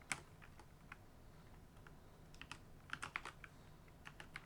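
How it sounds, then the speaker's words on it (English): Someone types on a computer keyboard while solving an Advent of Code puzzle. Quiet, close key clicks come in short irregular bursts with pauses between them, and no one talks. "I hate typing these subscripts."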